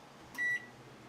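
A microwave oven beeps once with a steady electronic tone as its one-minute timer is set and it starts up, a single short beep over a quiet room hum.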